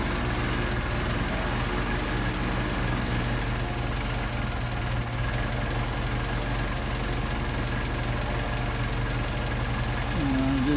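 A Mercedes 190SL engine runs steadily on Solex 44PHH carburetors during tuning, a constant low idle hum with even mechanical texture close by. Someone talks over it.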